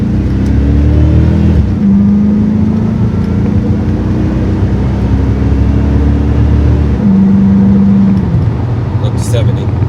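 A car's aftermarket exhaust rumbles with a deep, throaty engine note, holding steady low revs with a couple of rising pulls, loud and close throughout, with no talk over it.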